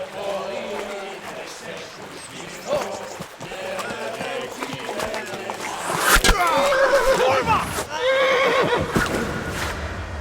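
A horse in the video game Kingdom Come: Deliverance lets out a few whinnies with hoof clip-clops, mixed with in-game voices talking and scattered clatter that swells louder in the second half.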